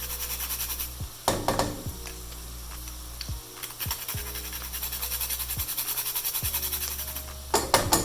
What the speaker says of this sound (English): I'm going to grate in fresh nutmeg.